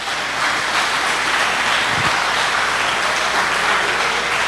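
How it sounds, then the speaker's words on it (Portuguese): Congregation applauding during a church sermon, a thick continuous roar of clapping at an even, loud level throughout with no talk on top. "Você pode aplaudir Jesus."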